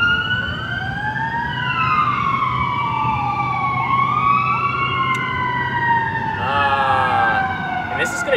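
Several wailing emergency sirens from fire engines and an ambulance sweep up and down as they pass close by outdoors, rising and falling in overlapping tones, with voices faintly underneath.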